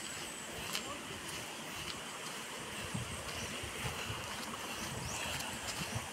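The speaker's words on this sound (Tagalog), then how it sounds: "Naririnig ko na yung tunog ng falls." Ambon Falls waterfall in Laurel, Batangas, a steady broadband rush of falling water heard at a distance, faint and continuous, with scattered small knocks and handling noises over it.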